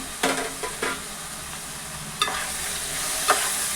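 Sea fish curry bubbles and sizzles in a pan, broken by a few sharp scrapes of a spoon stirring it, close and steady without any speech.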